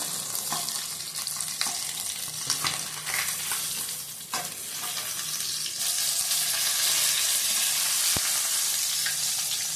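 Pabda fish frying in hot oil gives a loud, continuous close sizzle and crackle throughout, with occasional stirring clatter.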